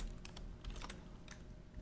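Fast typing on a computer keyboard while working in Adobe After Effects, a quick burst of light, close key clicks over a quiet background.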